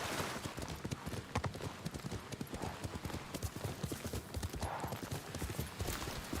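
A horse's hooves clip-clop in steady rhythm as it moves across the ground in Ghost of Tsushima, close and continuous, with ambient game sound underneath.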